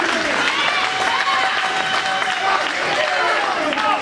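Wrestling fans at a Twin City Wrestling show cheer and applaud in a steady, dense crowd roar that fills the whole moment, with no break.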